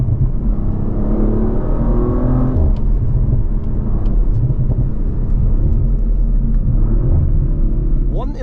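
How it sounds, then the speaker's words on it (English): A 2023 Audi RS5 Competition Plus with an enhanced exhaust system rumbles and revs, a deep throaty exhaust note under driving road noise with a brief rise near the start. "listen to that sound, we have an enhanced exhaust system"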